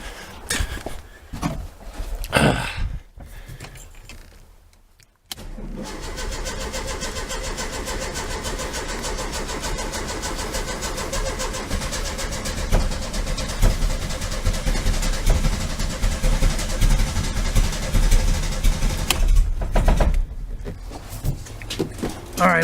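A 1973 VW Super Beetle engine cranks with the throttle pressed, a steady loud mechanical churn that runs on for many seconds after a brief gap, close up and alone.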